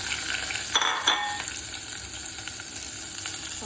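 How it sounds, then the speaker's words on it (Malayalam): Sliced onions sautéing in a pan for prawn thiyal, a constant close sizzle with a couple of brief scraping stir strokes near the start. "സവാള ഇട്ട് വഴറ്റണം"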